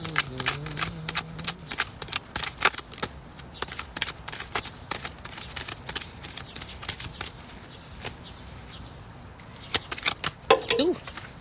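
Tarot cards are shuffled by hand in a rapid run of crisp, close riffles and flicks, and a few brief vocal sounds come near the end.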